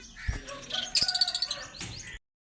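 Parrots chirping in an aviary cage, a run of short bright tweets and calls building to a denser burst near the middle, fairly close, with no talk.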